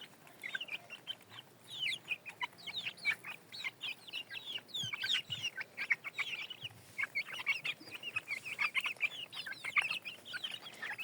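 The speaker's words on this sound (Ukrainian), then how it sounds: "Ну, багато півнів." A busy flock of chickens, including bearded and crested breeds, and many roosters clucking and squawking continuously, many overlapping calls near and far, with no talking.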